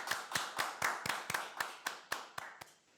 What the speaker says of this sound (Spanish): Un aplauso entonces para Alejandra.